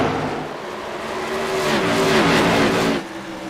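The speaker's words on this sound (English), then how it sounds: "I'm assuming that those cars are very loud on the stream" Stock race cars roar around the short oval at Bristol during a championship night double header, a loud, close engine drone that swells and rises in pitch as the pack passes, then drops away.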